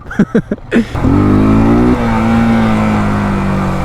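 A carbureted Yamaha FZS V1 motorcycle starts after a few short bursts, then settles into a loud, steady high rev held close up, dropping slightly to a sustained drone.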